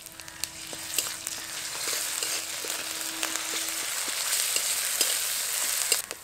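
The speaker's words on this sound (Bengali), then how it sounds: "আদা রসুন বাটা দেওয়ার পর ভালো করে কিছুক্ষণ ভেজে নিয়েছি।" Ginger garlic paste fries with browned onions for a taro leaf curry, producing a continuous close sizzle with frequent scraping and clicking stirs, plus a faint steady hum in the first part; no voices.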